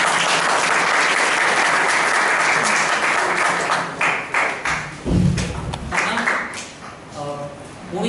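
An audience at a Toastmasters meeting claps loudly and steadily for several seconds, then the applause thins into scattered claps and thuds before a voice begins speaking.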